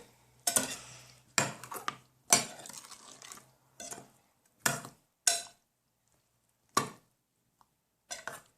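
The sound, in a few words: mixing pie filling of berries, pineapple, sugar and salt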